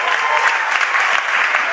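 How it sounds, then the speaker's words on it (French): A church congregation claps in a dense, steady burst of applause that stays loud and even throughout, with no voices rising above it. "Give the Lord a hand right now. Applaudissons le Seigneur ce soir."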